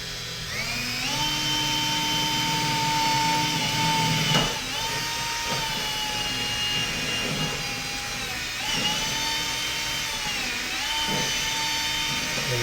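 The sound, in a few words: drilling a hole through a car firewall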